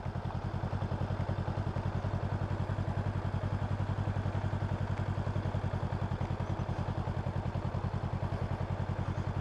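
A motorcycle rolls through slow-speed tight turns, its engine giving a steady, evenly pulsing low thump close by, with faint mechanical clatter and no change in pace throughout.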